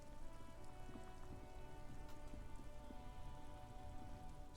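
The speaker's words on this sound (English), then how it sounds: "Stuck in the rain in a traffic jam, man." Steady rain patters on surfaces in the video game Disco Elysium, a soft, even, continuous wash with faint scattered drops and no speech.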